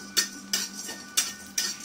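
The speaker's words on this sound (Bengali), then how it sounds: "এগুলো একটু শুকনো খোলায় ভেজে নেব।" Whole spices, mace, cardamom, cloves and peppercorns, dry-roasted in a pan, giving four or five sharp, faint clinks and rattles at irregular intervals over a quiet background.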